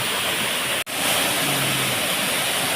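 Steady broadband roar of Pangpang Falls, a waterfall in Barangay Camoroboan, Jiabong, Samar, heard close and constant with a brief dropout near the start and a faint low hum partway through.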